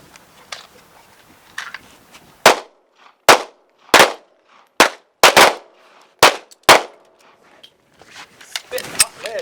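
Guardian 6 defensive pistol shooting on a range: about eight loud, sharp gunshots ring out close up in an uneven string, with quieter clicks and shuffling between them and more bursts at the end.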